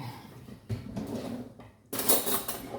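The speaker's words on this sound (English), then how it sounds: "scoop this mixture into the little cupcake cases" Cake mixture scooped into paper cupcake cases, heard as soft spoon scrapes and light clinks against a bowl, close and fairly quiet, with a brighter burst of clatter near the end.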